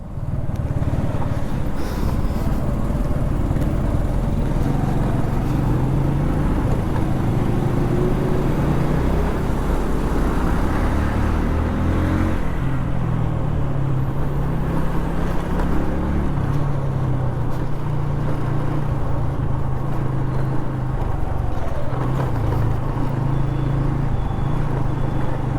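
Motorbike cruising on an open road in Karnataka, India, its engine a constant loud drone under heavy wind rush that builds as the speed rises.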